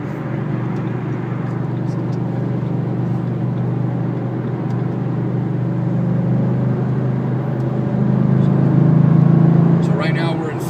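A 2012 Ford Mustang GT with a 5.0 V8 cruises on a highway in fifth gear, its low engine drone and road rumble steady and rising slightly near the end.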